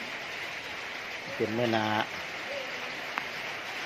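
Evening rain falling outdoors as a steady, even hiss throughout, with a person talking briefly over it in the middle.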